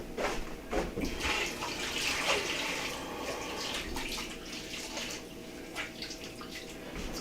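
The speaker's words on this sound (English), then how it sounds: "Rinse off my hands again." Running tap water rinsing hands at a kitchen sink, a steady splashing stream with scattered drips and clatters, close and fairly quiet, no talk.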